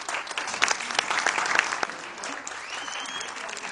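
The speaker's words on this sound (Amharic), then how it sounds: "ሞቅ ያለ ጭብጨባ" Warm applause from an audience at an awards ceremony, a steady wash of clapping hands with scattered louder claps, continuing throughout without a break.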